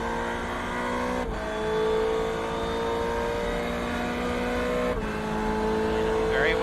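Ferrari 488 race car engine in iRacing at the Red Bull Ring, a steady high engine drone with sharp pitch drops at gear shifts, heard continuously under a commentator's talk.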